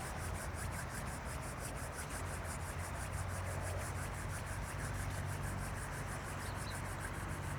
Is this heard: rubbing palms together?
yes